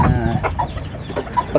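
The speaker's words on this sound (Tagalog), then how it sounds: "Bago ko lang nadadalaw itong mga labuyo ko, ay mga manok ko" Labuyo junglefowl chickens clucking close by in a series of short, scattered clucks and calls over a rough, noisy background, with no talk.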